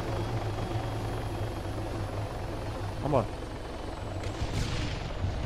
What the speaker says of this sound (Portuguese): Caraca, que barulho que é esse, velho? Forte, hein, meu? Helicóptero armado.